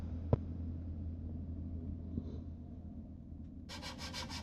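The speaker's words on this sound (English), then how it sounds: "some finish sanding to finish up the little edges there where your handholds are" Mostly quiet with a couple of small knocks, then a quick series of rhythmic rasping strokes of hand finish-sanding the edges of a wooden bat'leth blade near the end.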